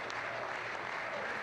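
Sustained applause in the Israeli parliament, the Knesset, honoring Indian Prime Minister Modi: an even, continuous wash of many hands clapping, fairly faint and distant, with no pauses.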